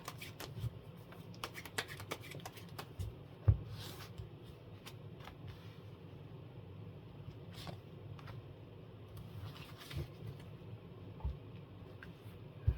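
Tarot cards are handled and laid out on a table, quiet soft shuffling and light slaps and taps scattered across a faint, otherwise calm background.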